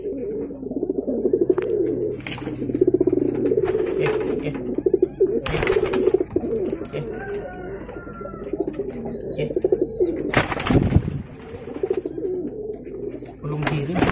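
Java pigeons (merpati Jawa sungut) coo in low, repeated, rolling calls close by, over ambient noise and occasional sharp knocks, with people speaking in the background.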